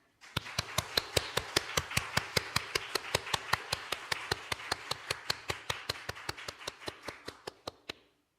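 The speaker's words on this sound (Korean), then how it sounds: "주님께 영광의 박수 올려드리겠습니다" A Korean church congregation clapping in unison during Sunday worship, a long run of sharp, evenly spaced claps at a brisk steady pace, about five per second, that stops cleanly after several seconds.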